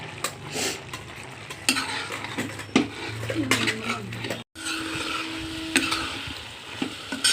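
Curry of dried fish simmering in a pot while raw cashews are added, with spoon scraping and clinks against the pan over a soft bubbling sizzle, one brief gap midway.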